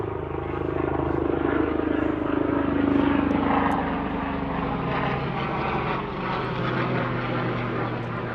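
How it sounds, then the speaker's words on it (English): A helicopter drones overhead on Governors Island, New York City, a steady low rumbling roar that holds at moderate volume throughout without fading away. "there's always helicopters flying over us"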